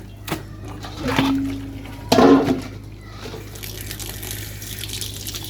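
Water is splashed and poured over clothes being washed by hand in a metal basin in a village, with a gush and splatter mid-way among quieter drips and handling sounds.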